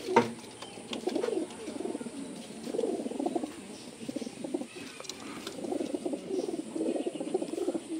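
Racing pigeons in the female cage of a club loft, cooing in repeated soft, throaty bursts, close and fairly quiet, with no talking.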